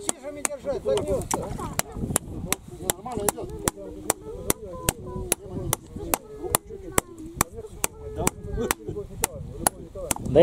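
A nail is driven into wood with a hammer while building a baptism site, a steady series of sharp, evenly spaced blows close by, with people talking in the background.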